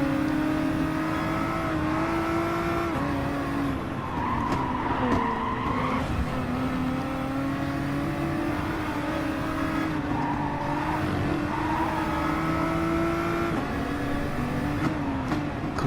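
GT3 race car in a racing video game at Bathurst, engine droning and shifting pitch through gear changes with occasional tire squeal, steady and loud throughout with no talking.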